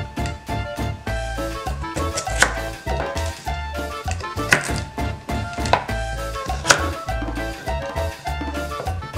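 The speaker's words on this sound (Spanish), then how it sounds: "Las zanahorias las vamos a cortar de esta manera." A knife chops carrots on a board for a pot of mole de olla, steady quick taps in a regular rhythm, close and clear, over background music.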